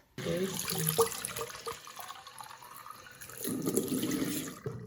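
Water from a tap runs into a container for salt-water mixing, a steady rushing pour that starts abruptly, eases in the middle, then swells again before cutting off, with a voice talking over part of it.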